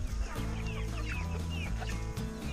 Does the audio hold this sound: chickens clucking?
yes